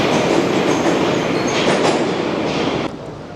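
A Moscow metro train runs with a loud, steady rumble and rattling wheel noise throughout, easing slightly near the end.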